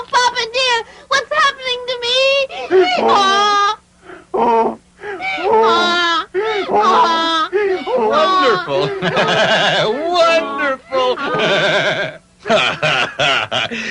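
Boys turning into donkeys bray in a dramatized story, voices imitating the sound with wobbling, bleating hee-haw cries in long bursts, loud and close with short pauses between.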